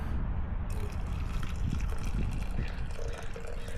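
Hot water poured from a cooking pot into a French press at a public park, a steady close trickle and splash lasting several seconds with no talking.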